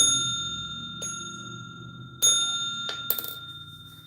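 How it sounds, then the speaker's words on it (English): A small bell rings in a quiet room during a spiritual card-reading session, struck several times with bright, clear, lingering tones that overlap and slowly decay, the later strikes closer together. "let's clear that energy out though for a second when a little bell ring"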